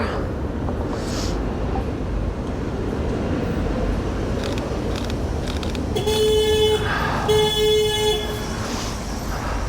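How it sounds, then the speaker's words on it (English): Street traffic rumbles along with scattered car horns tooting, including a couple of longer honks near the end, and a voice briefly audible in the background. "They're not honking at me, so it's okay."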